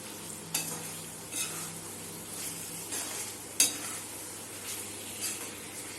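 Spiced eggplant curry sizzles steadily in a pan while a spoon stirs it, giving soft scraping strokes and a few sharper clinks against the pan at a quiet, close-up level with no talking.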